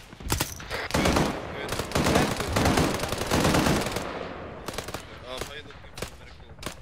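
Machine gun fire in the video game ARMA 3: loud, close bursts of rapid automatic shots with echoing tails, broken by short gaps, followed by a few separate single shots, with radio-style voices speaking underneath.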